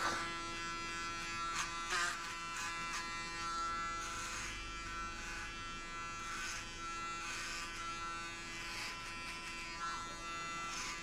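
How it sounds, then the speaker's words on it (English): Electric clippers buzz steadily through hair, shaving a head down for a first-time buzzcut, with a constant close hum that swells in short bursts as the blade passes over the scalp. "Shave everything off."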